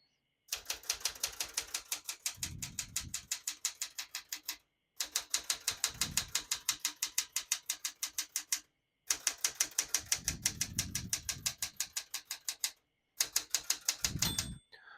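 Typing on a 1975 Smith-Corona Galaxie 12 portable typewriter: rapid, even runs of sharp key strikes in four bursts separated by short pauses, with heavier thumps of the carriage and spacing mechanism mid-run, close and alone.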